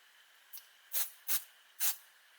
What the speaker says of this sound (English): I'm going to spray it on the box down here.